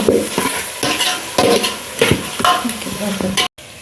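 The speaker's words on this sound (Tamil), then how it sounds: "பாருங்கள், இப்போ வெங்காயம் எல்லாம் நல்லா வதங்கி வருது." Onions with salt sauté in a pan over a wood-fired stove in a hostel kitchen, loud close sizzling broken by repeated scraping stirs at a steady rhythm, with no voices.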